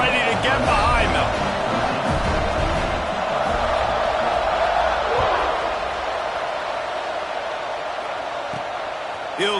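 Stadium crowd in a College Football 26 video game swells in a sustained roar before a kickoff, loud and continuous.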